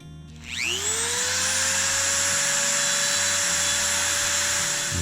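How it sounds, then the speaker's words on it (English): A rotary tool spins up and grinds steadily at the neck of a snow globe figurine from a Disney Lion King musical globe. The whine is loud, close and continuous, with a low hum beneath and no talking. "I am going to grind this neck down just a little bit because it's a little bit too much there"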